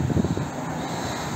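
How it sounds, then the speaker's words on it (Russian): Wind buffeting the microphone outdoors at an impound car lot in Gomel on a windy day, a broad steady rumble that is slightly gustier at the start and continues alone. "Сегодня ветрено, поэтому будет немножко шумно."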